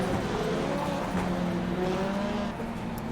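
A 15-car field of race cars pulls away behind the pace car on the Charlotte road course, a steady blended engine drone with some rising pitch, heard from a distance under the broadcast.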